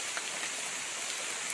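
Steady, even hiss of rain falling continuously in a forest, a dense wash of droplets with no other sounds standing out.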